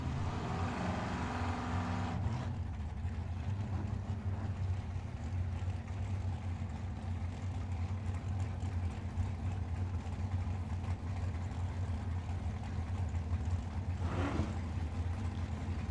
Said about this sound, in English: Cindy in her rear engine dragster, Hawk Family Racing Spitzer chassis